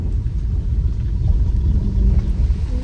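A vehicle engine idles low and steady while the vehicle is parked, a continuous close rumble with no talking.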